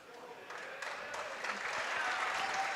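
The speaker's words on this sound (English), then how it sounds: "Nice round of applause as Coach Stewart presents him with the plaque" A crowd at a high school basketball game clapping as a coach hands over a plaque, soft at first and then swelling into steady applause, with voices mixed in.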